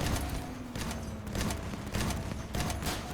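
Heavy, continuous weapon fire and explosions from armored vehicle combat in the video game Crossout, a dense, loud barrage with pulsing bursts throughout.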